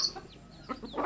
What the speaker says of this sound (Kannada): ನೋಡ್ರಿ ಹಿಂಗೆ ಅಕ್ಕಿ ಹಾಕ್ಬೇಕ್ರಿ ಕೋಳಿಗಳಿಗೆ